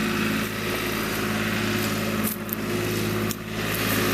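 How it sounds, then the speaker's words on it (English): A tractor engine hums steadily nearby in a cemetery, a constant low mechanical drone that dips briefly at moments, with no talking. "The delicate hum of a tractor."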